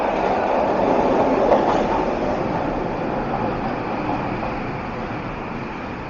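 A loud, steady rumble of a subway train at a Vancouver metro station runs throughout, a continuous rolling roar that holds constant with a slight swell early on.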